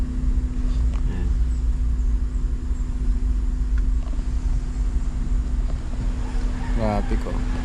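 Steady low road rumble and engine drone from inside a vehicle stuck in early-morning traffic on a road under repair during a trip to Caramoan, with a voice briefly speaking near the end.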